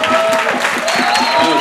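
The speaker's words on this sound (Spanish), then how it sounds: "Un aplauso." Concert crowd at the Fonoteca Nacional in Mexico applauds loudly and close, dense clapping that carries on steadily while a voice speaks over it.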